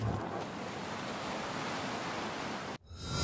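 Steady ocean surf washing against the shore at the seaside in the Police Simulator: Patrol Duty video game, a continuous broad roar of waves that cuts out abruptly near the end, with no talking.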